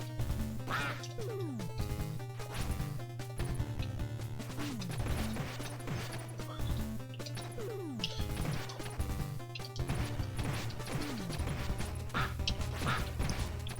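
Cartoonish duck quacks repeat among smashing and whacking hits over steady background music in a Teenage Mutant Ninja Turtles video game, with brawl sound effects dense throughout.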